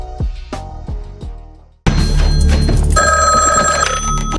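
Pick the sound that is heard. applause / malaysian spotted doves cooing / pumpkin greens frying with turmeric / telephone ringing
telephone ringing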